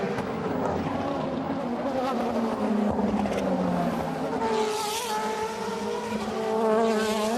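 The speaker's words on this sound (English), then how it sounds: "approach that hairpin at about 260 kilometers an hour down the gearbox" DTM race car at the Norisring braking hard from about 260 km/h into a hairpin, engine note stepping down through the gears with sharp pitch drops, loud and close with other cars audible.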